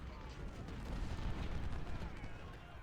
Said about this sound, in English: And we'll just keep firing into these guys.